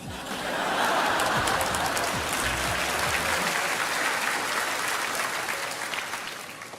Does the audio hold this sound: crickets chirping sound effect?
no